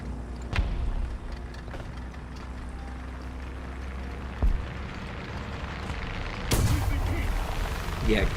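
Distant gunfire and heavy booms in the tank game American Ground Forces, a few sharp reports standing out over a steady engine-like rumble, with a louder burst near the end.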